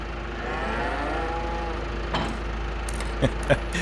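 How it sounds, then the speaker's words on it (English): Cows in a farming game, mooing together in long overlapping calls under a steady hum, followed by a few short knocks near the end. "The cows are singing in tandem."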